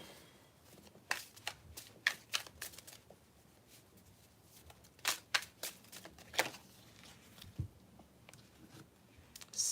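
Playing cards riffle and snap in a quiet room for a card reading, with irregular bursts of crisp flicks and pauses between shuffles, close and soft, no talk.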